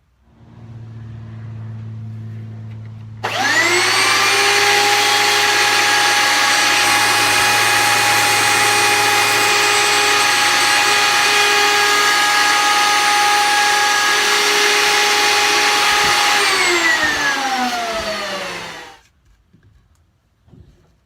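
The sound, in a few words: power tool carving a cigar box guitar neck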